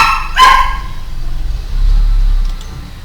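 A dog in the video game Fallout New Vegas gives a single sharp bark near the start, followed by a low, quiet background hum.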